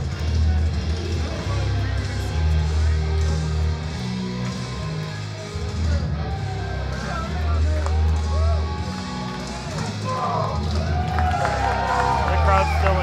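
A wrestling arena crowd at an anniversary show cheers and roars with a busy hubbub and scattered whistles, heard under a commentator talking over the noise.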